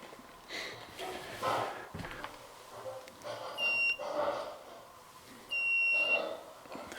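A laser trip sensor in an abandoned mansion gives two faint, short high-pitched beeps a couple of seconds apart, heard under nearby talking.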